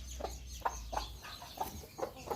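Chickens cluck in a backyard coop, a series of short, near calls repeating every half second or so over a low background hum.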